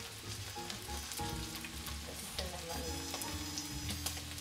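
Beef chunks for a cinnamon beef stew sizzle steadily as they brown in a pot with herbs and spices, a continuous close frying hiss holding an even level throughout.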